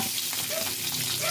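Pork hitting hot oil in a pan for pancit canton, a dense, steady close sizzle with faint stirring, no talk.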